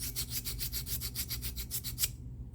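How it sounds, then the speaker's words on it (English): A chip on a vintage item is sanded with a small hand tool: about a dozen quick, even back-and-forth rasping strokes, close and fairly quiet, then a sudden stop. "I think I can sand that down actually with this."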